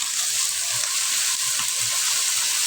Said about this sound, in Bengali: আমার শুটকি ভাজা হয়ে গেছে